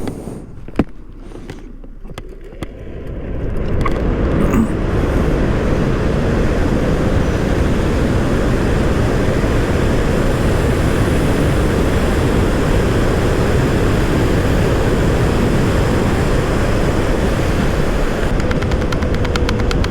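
An electric motorcycle e-bike on a quarter mile run, starting quiet with small clicks and then a sudden surge into a loud, steady rush of wind and motor noise that holds for the rest of the run.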